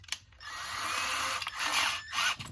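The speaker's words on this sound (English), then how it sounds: "Get a drill, you know, get a big enough drill bit" A power drill with a large bit whirs in bursts, revving up and slowing between short pauses, loud and close with no talking.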